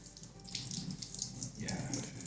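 Tap water streaming from a kitchen sink faucet while cooking red red, a steady close hiss and splash that shifts slightly in pitch partway through, with no speech.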